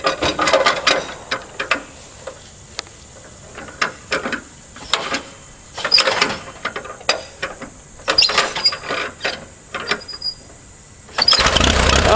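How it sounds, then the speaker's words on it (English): A 1948 Allis-Chalmers tractor is crank-started, with repeated ratcheting mechanical clatter and rhythmic cranking bursts before the engine catches and runs loudly near the end. "1948. Allis-Chalmers, a crank start."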